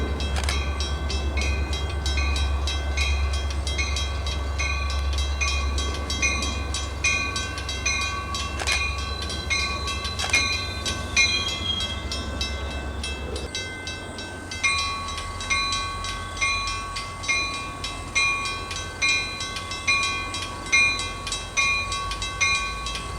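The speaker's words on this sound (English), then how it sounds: "Milwaukee West train number 2242 to Chicago Union Station is now arriving." A commuter train sits idling at Schaumburg station with a deep engine drone, then steady tonal hum and a repeating electronic chime pattern as the Milwaukee West train to Chicago Union Station arrives.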